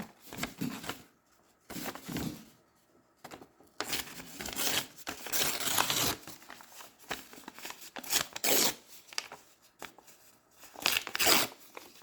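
Music paper being ripped by hand in a series of bursts, several distinct tearing strokes separated by short pauses, close and fairly loud with no talking.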